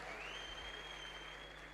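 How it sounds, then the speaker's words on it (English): Audience applause at a youth empowerment event, a brief burst of steady clapping from a crowd, fairly distant and even. "Give yourself a round of applause."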